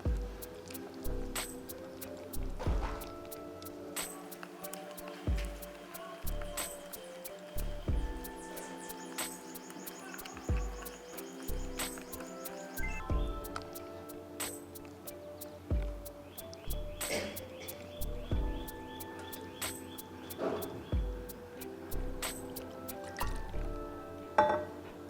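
Millet dosa batter being mixed by hand in a bowl, with wet squishing and dripping sounds and occasional clinks of the vessel, steady and close throughout with no talk.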